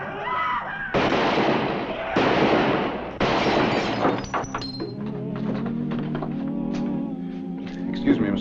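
Gunshots ring out in a western film: a quick series of loud, sharp bangs with long ringing tails, followed by scattered fainter cracks and clatter.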